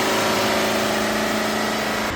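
A Mitsubishi L200 pickup's engine hums steadily at a constant idle, loud and continuous, with no voices over it. The truck has a throttle fault and an overloaded diesel particulate filter.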